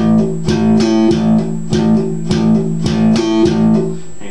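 Slap bass guitar plays a steady groove exercise, rapid percussive thumped and popped notes in a consistent repeating rhythm, loud and close with no talking.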